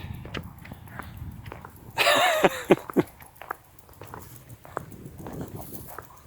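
A dog walks nearby on ice, its paws scuffing in scattered steps, with a brief snuffling burst partway through and quiet outdoor ambience around it.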